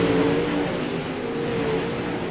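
Pro late model race cars roar out of turn four on the final laps, a steady, loud engine drone with a sustained tonal whine throughout, no voices.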